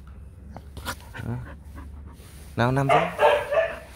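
A Vietnamese H'mong bobtail dog gives a couple of short, close barks and whimpering yelps amid panting while someone talks to it.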